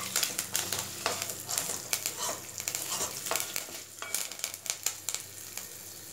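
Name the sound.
stirring and frying spices in a pan for sambar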